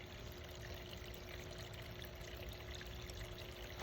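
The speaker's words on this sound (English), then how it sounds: "here's one of my fountains" A garden fountain in a home orchard pours and splashes in a continuous, even rush of water, heard close and alone without any talking.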